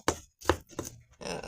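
Vegetables are chopped on a small chopping board for lentil stew, with four crisp knife strikes in uneven rhythm, close and clear, ending in a rougher scraping cut.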